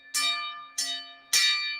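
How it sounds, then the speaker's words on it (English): Three clear, ringing bell strikes from a set of new bells, each sharp hit decaying slowly, evenly spaced and loud with no talking. "Trying out the new bells still, folks."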